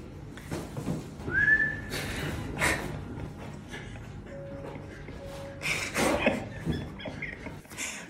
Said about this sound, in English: you can't shout, you whistle